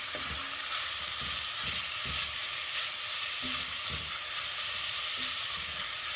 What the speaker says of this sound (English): we're going to put in our beef tips. We're just going to lightly cook it on both sides.